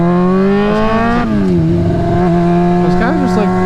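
A Honda F4i sport motorcycle revs hard and accelerates up close, its loud steady engine drone climbing in pitch, dipping briefly at a gear change, then rising again through the rest of the run.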